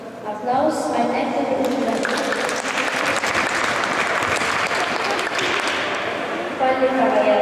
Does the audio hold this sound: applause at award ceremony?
yes